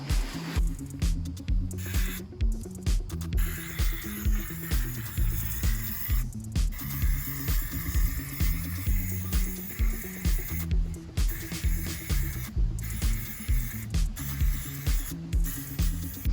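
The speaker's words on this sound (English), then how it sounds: "So we're gonna go ahead and spray paint the hardware" A spray gun's steady hissing spray applies paint to furniture hardware, with rhythmic pulsing bursts repeating about every second, close and continuous throughout, with a low mechanical thrum underneath.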